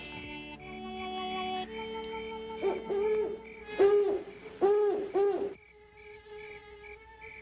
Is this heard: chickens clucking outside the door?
no